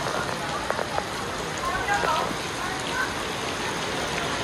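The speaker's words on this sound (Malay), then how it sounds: "Hujan." Steady rain patters on a surface at an outdoor water park in Malaysia, forming a constant hiss with scattered drops, while voices talk faintly underneath.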